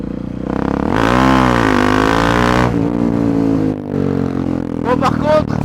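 A Husqvarna 701 motorcycle engine revs hard nearby during a wheelie, its pitch sweeping up and settling into a sustained roar before easing off, with a few quick blips at the end.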